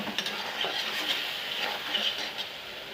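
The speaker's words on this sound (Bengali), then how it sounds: "এখন মশলাটাকে ভালো করে কষিয়ে নেব" Spice paste with turmeric and chili powder sizzles in a pan while a utensil stirs and scrapes it, soft frying hiss with irregular scraping strokes close by, no voices.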